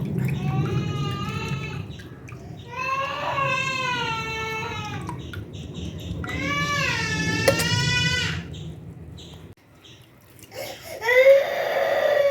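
A baby cries in long wailing bursts, several drawn-out sobs separated by pauses, heard at a moderate distance over a low background hum.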